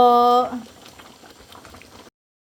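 Beef caldereta broth simmering and reducing in a pot, a soft steady bubbling that continues under a brief voice at the start before fading out.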